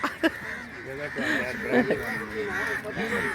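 Harsh crow caws ring out repeatedly, mixed with honking waterfowl and a voice talking nearby.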